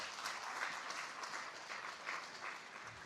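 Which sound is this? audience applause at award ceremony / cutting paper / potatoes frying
audience applause at award ceremony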